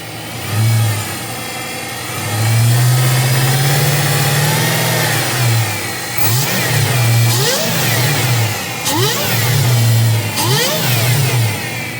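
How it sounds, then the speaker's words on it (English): A supercharged 2003 Infiniti Q45 engine idles, then swells in a long loud rev, followed by a series of quick sharp blips with supercharger whine, close and loud. "Yo, I love superchargers. And now that I've heard it, I'm not sure I want to sell it now."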